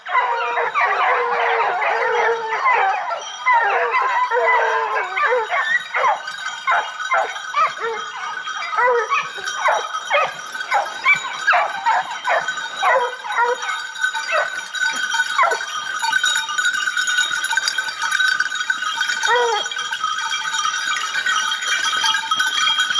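Pack of hunting dogs baying and barking during a wild boar drive hunt in France, a dense, continuous chorus of overlapping yelps and howls at middle distance with no pauses.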